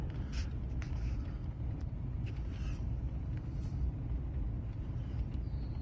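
A car rolling slowly over a bumpy road, a steady low rumble of tires and cabin with faint knocks and rattles, close and continuous.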